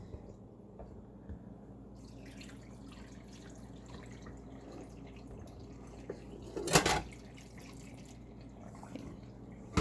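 Brown, dirty water is poured from a container into a sink: a few quiet drips, then a brief close splash about two-thirds of the way through, with mostly quiet room tone around it.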